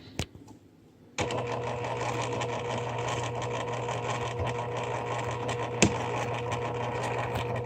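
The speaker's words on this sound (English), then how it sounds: "I'm starting at my line, and don't forget to backstitch." A sewing machine stitches around a fabric tissue paper holder, including a backstitch at the start; after a brief quiet moment the steady, close motor hum and rapid needle chatter run continuously, with one sharp click near the end.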